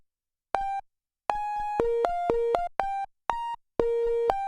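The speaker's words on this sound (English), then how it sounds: "a percussive fast attack, fast decay patch on my O coast for my melody" A plucky synth melody of short, sharp notes with quick decay, bright tones stepping between pitches in a bouncy rhythm, played cleanly with brief gaps, from a fast-attack, fast-decay patch on a Make Noise 0-Coast synthesizer.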